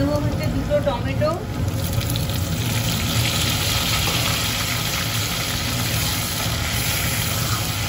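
Tomatoes are added to potatoes frying in hot oil in a pan while cooking prawn curry. A steady sizzle holds throughout, with a brief clatter near the start.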